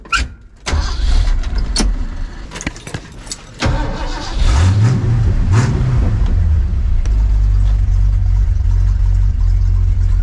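An old Ford truck engine starts with a few clicks and clunks, then revs up and down before settling into a loud, steady, close idle.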